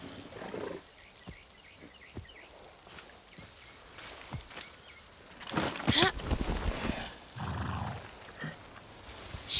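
A horse in the video game Far Cry 6 with soft, steady hoof steps, then a louder burst of snorting or whinnying near the end against faint outdoor ambience.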